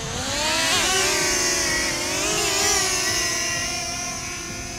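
A DJI Flip drone spins up and lifts off close by, its rotors a loud, tonal whine that rises and wavers in pitch as it climbs, with no talking.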